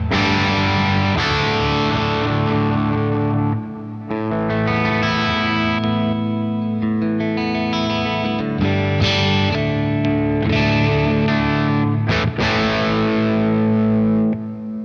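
An electric guitar plays through an Origin Effects RD Compact Hotrod distortion pedal with heavy distortion, sustained chords and notes, washed in reverb and echo, loud and continuous with a brief dip partway.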